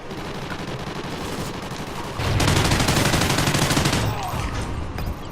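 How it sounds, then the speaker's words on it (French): Gunfire from a weapon in an online shooter game, a dense rapid burst of shots that swells louder midway and then continues steadily, with no talk over it. "Le shoot de ouf avec cette arme."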